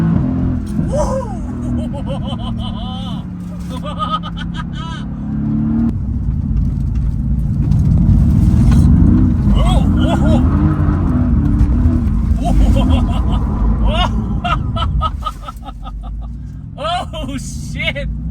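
Mid-front engined sports car drives and accelerates hard, a deep engine rumble swelling and falling with rising revs, heard from inside the cabin under excited voices.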